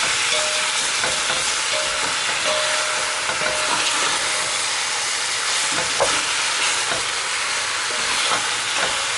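Oxtail browns in hot oil, crackling in a loud, dense sizzle with scraping stir strokes and occasional clicks of the utensil against the pot, close up and with no voices.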